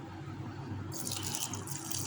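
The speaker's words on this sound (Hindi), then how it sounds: "1 से 2 कप अपने इसमें पानी शामिल करना है" Water is poured into a gram flour mixture, a soft splashing trickle that starts partway through and continues over a low background hum, with no talk.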